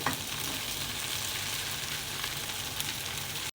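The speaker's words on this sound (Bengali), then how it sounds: "গভীর রাতে আমি এখন নুডলস রান্না করতেছি" Noodles with potato, tomato and egg cooking in a pan, giving a constant close hiss of frying and sizzling with faint stirring, no voices.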